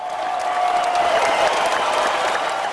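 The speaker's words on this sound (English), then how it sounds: "There is a tremendous roar from the crowd." A large outdoor crowd at an aqueduct dedication claps and cheers in a dense, continuous wash of noise, loud and sustained throughout the short stretch.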